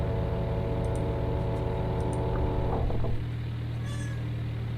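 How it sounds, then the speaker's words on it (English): A pet cat gives a couple of short, faint meows against the steady drone of a flight simulator's aircraft engine. "my cat has decided to jump up on the table"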